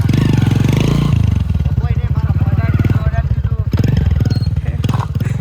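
A motorcycle stuck in mud, its engine revving loud and close with a steady throbbing rumble, surging and straining while people shout over it.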